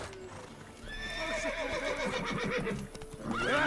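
A horse neighs and whinnies in the video game Witcher 3, with hooves clip-clopping over a busy in-game background. A final loud whinny closes the sound.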